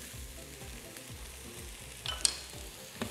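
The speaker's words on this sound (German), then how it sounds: "Rösten wir das schön an." Maultaschen filling roasting in a pan, a low steady sizzle with faint scraping or stirring strokes and a couple of brief louder clinks near the end, no voices.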